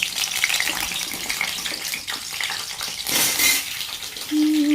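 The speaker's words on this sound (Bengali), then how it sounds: "এবার কড়াইতে তেল গরম হয়ে গেছে, এখানে আগে আলুগুলোকে লাল লাল করে ভেজে তুলব।" Potatoes frying in hot mustard oil in a wok, a steady, moderate sizzle with a brief louder crackling burst midway and a short tonal clink near the end.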